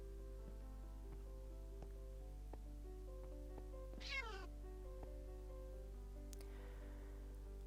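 A Minecraft cat gives a brief, clear meow partway through, rising above a steady game-music and ambient background with no talk.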